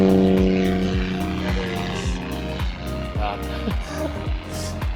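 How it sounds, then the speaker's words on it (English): A propeller plane drones overhead outdoors, a steady loud engine hum with a pulsing beat that shifts slightly in pitch as it passes. "Yeah, it is a plane."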